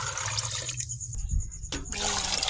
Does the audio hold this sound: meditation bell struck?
no